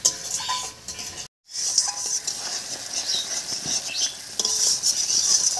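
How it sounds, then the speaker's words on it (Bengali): Spices for a fish curry being stirred in a frying pan, a spoon scraping and clinking against the metal over a light sizzle, with one brief pause. "সব মশলাগুলো দিয়ে বেশ কিছুক্ষণ নাড়িয়ে নিয়েছি।"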